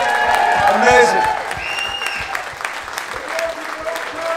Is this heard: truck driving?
no